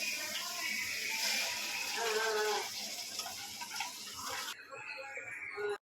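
Liquid is poured into a pan of eggplant curry cooking with onion and tomato, a soft trickling splash under faint kitchen noise, continuing for several seconds before ending abruptly.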